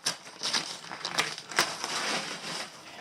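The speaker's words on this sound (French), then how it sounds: "Je vais donc le déballer avec vous" Paper and plastic packaging crinkle and crunch in close, irregular bursts as a parcel is unwrapped, with several sharper crackles among softer rustling and no talking.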